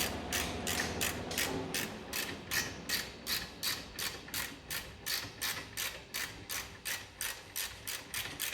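A ratchet with a 3/8 socket and wobble adapter loosening a ball joint nut on a 1975 Corvette Stingray, giving a close, steady train of rapid clicking strokes with no break.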